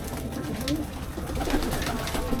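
Racing pigeons coo in a loft at feeding time, soft repeated throaty calls from several birds overlapping against a steady background murmur, nobody speaking.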